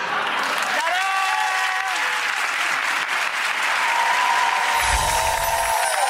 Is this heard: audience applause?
yes